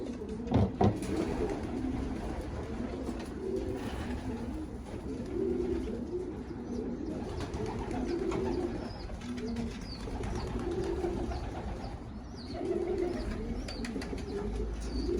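Racing pigeons on a rooftop coo steadily in low, rolling phrases, several birds overlapping close by, with a brief clatter near the start.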